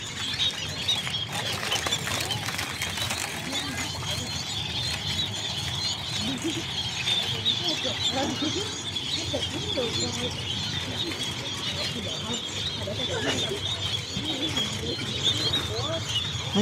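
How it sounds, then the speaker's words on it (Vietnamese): Flock of sparrows at a riverside shrine in Go Vap, busy overlapping chirps and cooing with wing flutters, moderately close, under intermittent voices and steady background noise. "mấy con chim sẻ này"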